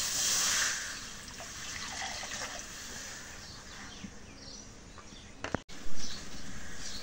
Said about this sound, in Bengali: ডিম সিদ্ধ করবো, ডিমের পানিটা তুলে দিই